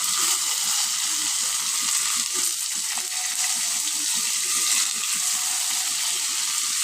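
Stuffed brinjals filled with green chilli masala fry in hot oil in a kadhai, a constant close sizzle with faint clinks and stirring sounds mixed in.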